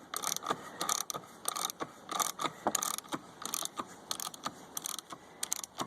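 A ratcheting wrench clicks in quick repeated bursts while turning a harmonic balancer puller on a GM 3.8L engine, a close, crisp pawl rattle with short pauses between strokes.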